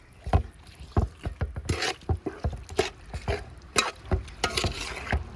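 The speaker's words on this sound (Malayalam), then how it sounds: "നല്ലപോലെ ഒന്ന് ഇളക്കി കൊടുക്കുക" Meat and rice being stirred in a pot after water has been added, giving a steady series of close scraping, clattering strokes with a wet, sloshing edge, with no talking.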